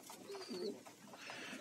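Soft, low cooing of pigeons in a dovecote during morning feeding on a rainy autumn day, a few rolling calls fairly close, with faint higher chirps and light background noise.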